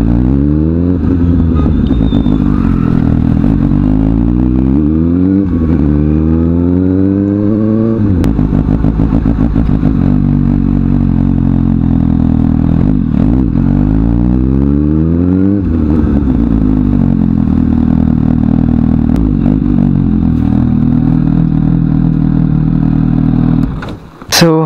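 Suzuki GSX-S 750 motorcycle ridden at high speed, a loud close engine roar climbing through the revs with repeated gear shifts and wind buffeting, continuous for over twenty seconds.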